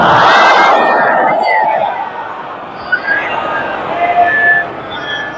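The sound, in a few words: gathering reciting salawat in response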